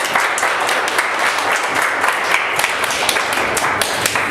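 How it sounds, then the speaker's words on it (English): Church audience clapping hands together, a dense, continuous patter of many claps filling the room at steady loudness for several seconds. "Can we clap hands for him?"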